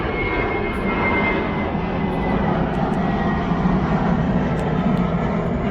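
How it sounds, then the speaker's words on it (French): An airplane passing overhead in Morocco, a steady loud engine roar and rumble that holds at close range for the whole stretch, no talk. "Je vais laisser passer l'avion passer."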